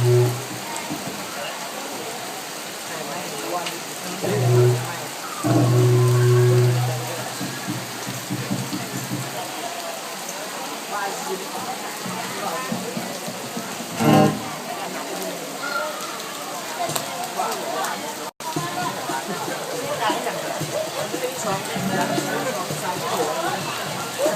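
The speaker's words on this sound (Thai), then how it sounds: "โอ้ฝนดี บ้านสีเรือนี่ฝนดีจริงๆเลยครับ" Steady heavy rain hisses down throughout, with a voice cutting in now and then over the downpour.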